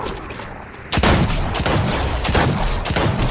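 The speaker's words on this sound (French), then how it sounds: "Hop, on va prendre le nouveau lance-roquette." The new rocket launcher fires in the video game Fortnite, a sudden loud blast followed by a rapid run of sharp, booming shots with no talking.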